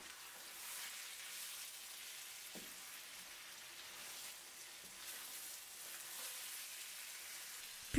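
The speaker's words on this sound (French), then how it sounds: "Je mélange brièvement." Chicken and seafood paella with cuttlefish, squid, mussels and shrimp, briefly stirred in a wide pan, giving a faint, steady sizzle with a few soft scrapes.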